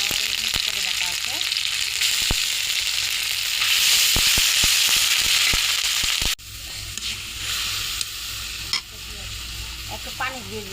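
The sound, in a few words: ginger-garlic paste frying with onions in pan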